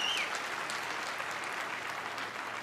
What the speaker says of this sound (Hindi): एक जोरदार तालियां हम सबके महागुरु डॉक्टर संजीव कुमार गुरु जी के लिए।